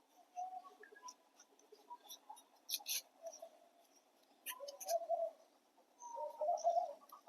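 Pet pigeons coo softly in low, rolling calls, several bouts near and faint, mixed with light rustling and scratching.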